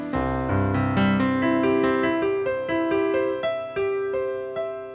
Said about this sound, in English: The piano has now been switched down one octave.